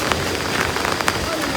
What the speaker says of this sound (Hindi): और अब बारिश तेज़ हो गई है